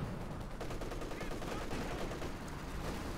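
Machine gun fire rattles in Company of Heroes 2, a steady rapid stream of shots over dense battlefield din with a voice talking over it.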